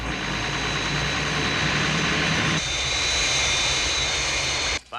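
The Fireflash aircraft from Thunderbirds drones loudly and steadily on approach to the runway threshold. The engine roar shifts slightly partway through and cuts off abruptly near the end.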